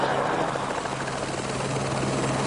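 A helicopter rotor spins with a steady, dense whirring drone that holds at an even loudness throughout, close and continuous.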